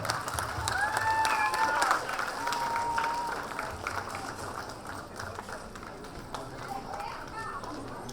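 Clapping fills the hall at a first-year annual day function at Rajkumar Kalabhavan as a guest is called to the stage, steady and fairly loud for about eight seconds, mixed with crowd noise, voices and a few brief whistle-like tones early on.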